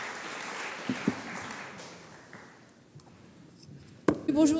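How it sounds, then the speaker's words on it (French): Conference audience applauding the panel speakers after a round-table session, a diffuse patter that thins and fades, followed by a brief clatter and a voice at the end. "Je vous propose d'applaudir encore une fois les intervenants."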